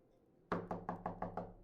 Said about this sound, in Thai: มีเสียงเคาะประตูครับ